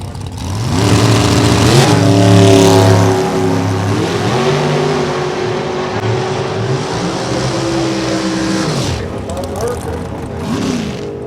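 Drag racing cars roar down the strip side by side at Larry Hodge Racing's Fall Classic, a loud sustained engine howl climbing in pitch through the gears, with an announcer talking over the run.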